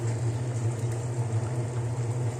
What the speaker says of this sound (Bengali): দেখছেন কি সুন্দর বলক আসতেছে।